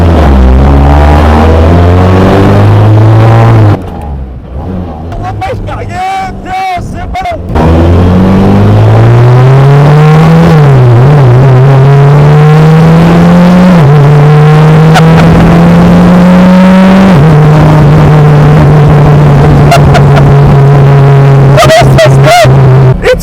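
Small engine of an open, go-kart-like road car with no windshield, revving loudly and close, pitch rising and falling through gear changes with a brief lull before building again and holding a strained drone.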